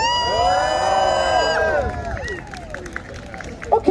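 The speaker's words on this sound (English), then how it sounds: "That is what we call in the business a pretty good round of applause" An audience at a fire-juggling show lets out a drawn-out cheer, then a thinner run of scattered claps and whoops follows, fairly close, with no speech.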